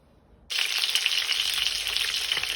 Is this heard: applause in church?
no